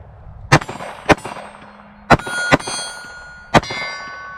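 Five sharp .380 pistol shots from a Sig Sauer P365, each followed by a bright metallic ring from a steel target plate, spaced irregularly with short gaps between them, crisp and fairly close.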